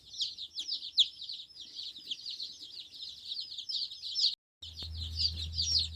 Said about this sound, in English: if you've never seen 50 baby chicks, this is what it looks like